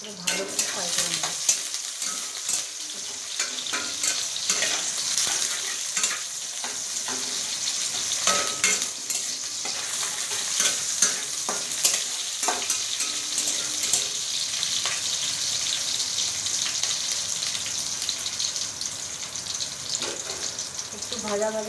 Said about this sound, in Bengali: দেবো তেজপাতা, ভালো করে ফ্রাই করে নেব।